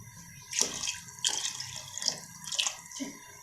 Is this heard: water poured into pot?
yes